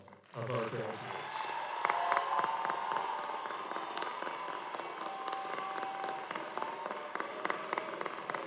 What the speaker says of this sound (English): Let's hear applause for all of our graduates